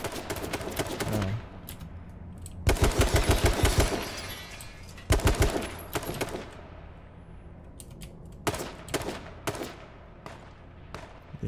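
Automatic gunfire from shooting at an enemy in a video game comes in several rapid rattling volleys separated by quieter gaps, loud and with no talking.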